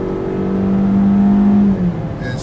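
A Mini Cooper S with a turbocharged engine pulls hard, its loud, rising whir holding steady for over a second before easing off, heard from inside the cabin.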